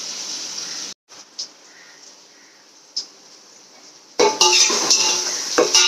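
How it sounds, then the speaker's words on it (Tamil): A spoon stirs sautéing onions in a pan, with a few scattered metal clinks against the cookware, then a louder burst of scraping and clattering near the end. "வெங்காயம் நல்லா வதங்கிட்டோம்."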